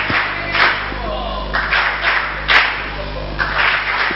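Audience clapping at a stand-up comedy show, coming in repeated bursts of claps that swell and fade over a low steady hum, with some chatter mixed in.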